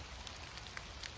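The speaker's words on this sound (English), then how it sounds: "It's still raining." Rain keeps falling and dripping off trees while the sun is out. A faint, steady patter is broken by a few louder individual drops landing nearby.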